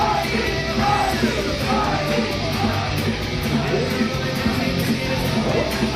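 A loud wrestling crowd at an SLA Anarchy show in St. Louis cheers and yells steadily, a continuous roar of shouts and whoops with no break, voices of individual fans poking through the din.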